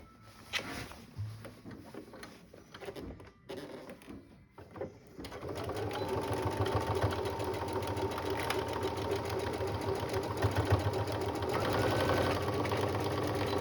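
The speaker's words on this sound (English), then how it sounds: "match up the corners, the box corners, and sew across." Sewing machine stitching across the box corners of a grocery tote bag, starting after a few handling clunks and then running in a steady, close mechanical whir to the end.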